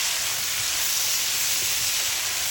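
Sausages, peppers and onions stirred in a hot pan, giving a steady, even sizzle and hiss that runs throughout at moderate volume with no talking.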